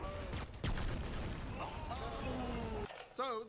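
Bombardment and gunfire in the Arma 3 video game with a Halo setting: sustained rumbling explosions and scattered shots fill the clip, with voices and game sounds layered on top and a brief lull near the end.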